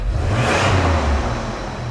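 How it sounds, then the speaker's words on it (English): A truck engine runs loud and close just after starting, a steady, full rumble that swells briefly like a light rev and then settles. "Fires right up and it idles completely smooth."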